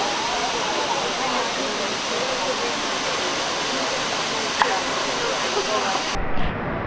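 Waterfall in Mexico roaring as a steady, loud broadband rush of falling water close by, with a brief sharper splash near the end.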